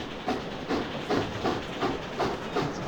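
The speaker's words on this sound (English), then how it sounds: "Sean, you listen to the train." A passenger train rolls along in the video game The Last Express, giving a steady rumble with evenly spaced clickety-clack beats about twice a second and a hissing undertone, with no talking.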